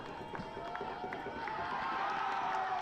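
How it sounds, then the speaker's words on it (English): Soccer crowd at a men's championship match cheering after a goal, a steady wash of distant voices and noise held at a constant level throughout. "You heard the crowd get into it too."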